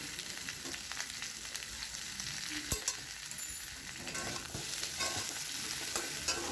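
Steady sizzling of khichuri ingredients frying in a pan with salt and turmeric, with occasional scraping and stirring clinks; no voices.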